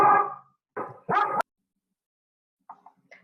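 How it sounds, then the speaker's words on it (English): A dog barks in three short, loud bursts close by, followed by a pause and a few fainter, higher yips and whimpers near the end, with no talking. "that's my dog who likes to bark."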